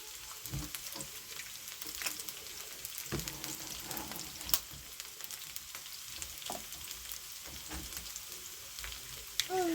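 Onions fry in a pan for egg stew, giving a continuous soft crackling sizzle with occasional louder pops and stirring scrapes, close and fairly quiet.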